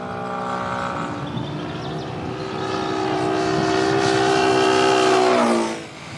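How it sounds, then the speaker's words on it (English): A vehicle engine at Hong Kong airport drones as it passes. Its steady tones grow louder, then drop in pitch and fade quickly as it moves away. "Now listen carefully to the sound of the engine."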